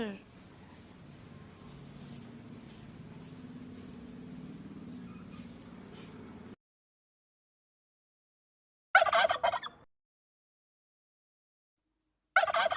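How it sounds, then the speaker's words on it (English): A turkey gobbles in short, loud, rattling bursts that break a long silence, after a steady stretch of low background rumble. "turkey,"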